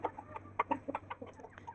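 A rooster on a backyard poultry farm, recently recovered from illness, gives a series of short, irregular clucks close by, with quiet ambient hum underneath and no voices.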